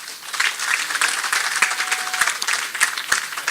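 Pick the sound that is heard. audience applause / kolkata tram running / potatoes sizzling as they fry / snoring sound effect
audience applause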